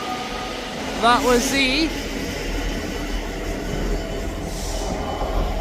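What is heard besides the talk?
ScotRail class 385 train departing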